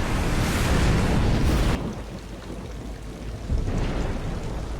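Storm scene from The Last of Us TV series: a loud wash of heavy rain and rumbling thunder that suddenly drops to a quieter steady downpour, then swells again near the end, with no talking.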